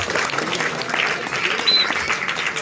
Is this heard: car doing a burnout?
no